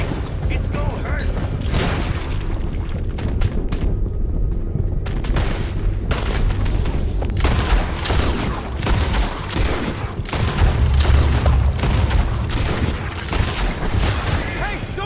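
Dense gunfire from a canyon shootout in Red Dead Redemption 2: rapid, overlapping shots and booming reports crackle continuously and loudly, with occasional shouted voices mixed in.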